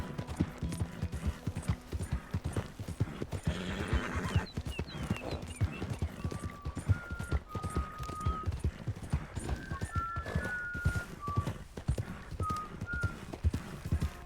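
Steady clip-clop of horse hooves at a trot in the video game Red Dead Redemption 2, close and continuous, with a brief whinny partway through and a thin whistled tune drifting in over the hoofbeats.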